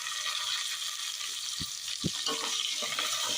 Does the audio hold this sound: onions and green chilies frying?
yes